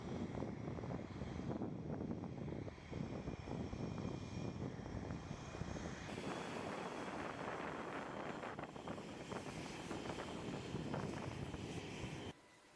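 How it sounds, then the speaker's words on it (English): F/A-18 Hornet fighter jets with turbofan engines roaring at Kadena Air Base, Okinawa, in the early morning: a loud, steady, broadband jet rumble with wind buffeting, continuous for the whole stretch and cutting off abruptly at the end. "the roar of turbofan engines echoed across Kadena Air Base, Okinawa"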